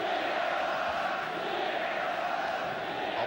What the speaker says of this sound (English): The crowd are trying very hard because they enjoyed a great first half.